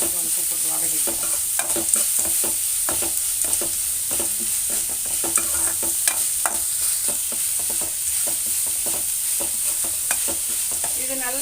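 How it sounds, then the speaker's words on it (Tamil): Onions sauté with salt in a pan for a ragi and drumstick-leaf adai, a constant close sizzle broken by frequent rhythmic spatula scrapes and stirs. "அதனால் வெங்காயத்துக்கு கொஞ்சம் உப்பு போட்டு வதக்கிக்கலாம்"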